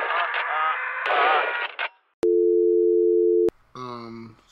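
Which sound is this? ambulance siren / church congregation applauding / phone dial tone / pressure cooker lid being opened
phone dial tone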